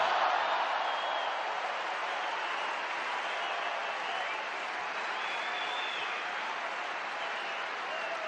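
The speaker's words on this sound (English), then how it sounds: "The roar when Rafa put that ball away is enormous." A tennis crowd at the 2017 Laver Cup doubles erupts in a roaring, sustained wave of applause and cheering after Rafa Nadal's winning shot, loud and dense, fading slightly toward the end.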